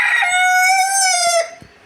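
A rooster in a restaurant's poultry enclosure lets out one long, loud crow near at hand, the call sustained and then trailing off, with faint clucking from hens beneath it.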